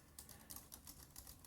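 Keys clack on an AlphaSmart Neo portable keyboard in a quick, evenly spaced run of about eight crisp strokes, close and quiet with no talk.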